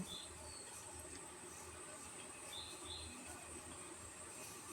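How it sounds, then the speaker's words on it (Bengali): A train pulling into a station platform after rain, heard as a faint, steady low rumble of rolling wagons with a few soft high wheel squeals, distant and even throughout. "এই দেখুন ট্রেনটা আসছে"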